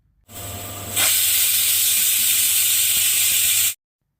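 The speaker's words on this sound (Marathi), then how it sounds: "कुकरला मीडियम फ्लेमवर दोन शिट्टी करून घ्यायच्या आहेत" A pressure cooker of carrot halwa lets off a loud, steady jet of hissing steam with a whistling tone. It starts abruptly, swells after a moment, holds for about three seconds, then cuts off sharply.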